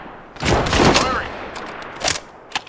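Gunfire in an Apex Legends-style battle royale shooter: a loud burst of rapid shots up front, then a couple of sharper isolated cracks trailing off.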